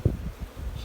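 Honey bees hum in an open, gentle hive during queen rearing, a brief close low buzz with a soft thump at the start.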